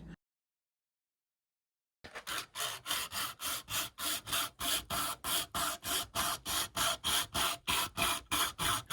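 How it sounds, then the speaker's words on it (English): After a brief silence, a cable saw cuts through a plastic battery case with rhythmic back-and-forth rasping, steady sawing strokes about two per second, close and fairly loud. "I ended up sawing them off with a cable saw"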